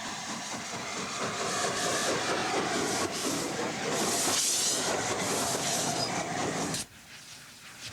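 A preserved steam locomotive hauls its train along a British heritage railway, giving a loud, steady rumble with hissing steam and rolling wheel noise that cuts off sharply near the end.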